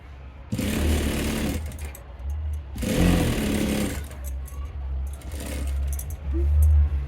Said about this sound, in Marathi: परत आपल्याला याच्यावर दाब शिलाई मारायची.